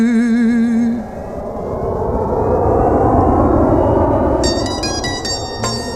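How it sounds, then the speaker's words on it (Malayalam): A large airplane takes off from an international airport in an Arab country, its engines a loud sustained roar, while a sung melody plays over the start and tinkling instrumental notes come in near the end. "അറബി നാടിനന്തർദേശീയ വിമാനത്താവളത്തിൽ നിന്ന് അലറിയട്ടഹസിച്ചുയർന്നു പൊങ്ങി പടുകൂറ്റൻ വിമാനം ഒന്ന്."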